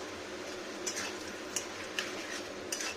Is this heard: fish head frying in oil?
yes